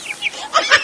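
A chicken clucks close by in a rapid series of short, loud, throaty calls with no voices over them.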